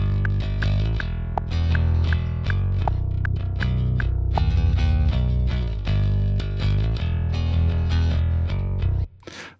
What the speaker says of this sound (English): So I'm running a very clean bass signal through a more traditional Ampeg amp there.